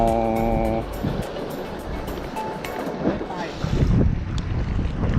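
Strong sea wind buffets the microphone aboard a small fishing boat off Koh Kham Yai while out squid fishing, a constant roaring rush with wave wash beneath and brief bursts of voices.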